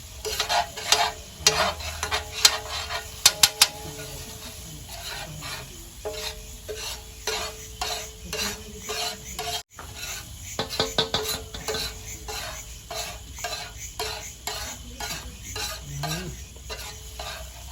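Pav bhaji is stirred in a hot pan with a spoon, giving rhythmic scraping and clinking strokes over a soft sizzle, loud and close, with a brief break partway through.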